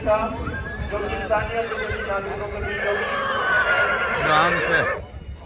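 A horse whinnies at length close by, with a rising and falling neigh over a busy outdoor scene, hoof clatter and people talking around it.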